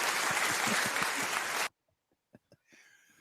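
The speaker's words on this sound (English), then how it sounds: "let's give Gary a round of applause for that description" Audience applause for a movie description fills the first half, a dense burst of clapping that stops abruptly, followed by near-silence with a few sparse taps and faint noise.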